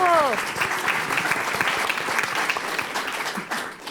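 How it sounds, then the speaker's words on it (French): Audience applause at a live magic talk show, loud and sustained throughout, with a voice briefly heard at the very start over the clapping. "On peut l'applaudir"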